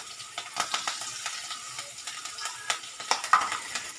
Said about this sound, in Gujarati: મીઠો લીમડો નાખીશું.